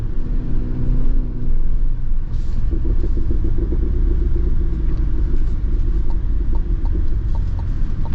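Deep, loud, continuous rumble from the supercharged V8 of a 700-horsepower armored Cadillac Escalade V, with soft irregular exhaust burbles pulsing through a steady low drone.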